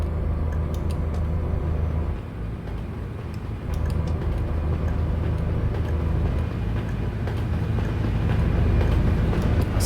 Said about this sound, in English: I think we passed the train, and then it also went there as well